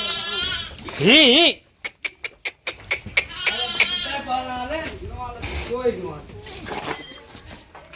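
Loose village cattle and livestock call out after a rainstorm with a few loud bleat-like cries among rapid clicks and knocks, while people talk and laugh nearby.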